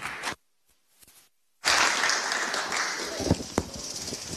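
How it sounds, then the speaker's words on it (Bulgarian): After a brief silence, an audience at a programming talk on the Go language breaks into steady applause for a speaker, dense and close, running to the end with a few sharper claps standing out. "моля вашите аплодисменти за Живко!"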